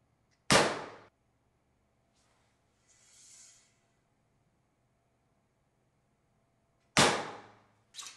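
Two sharp arrow impacts into a blank target bale, several seconds apart, with a faint soft whoosh between them in a quiet space.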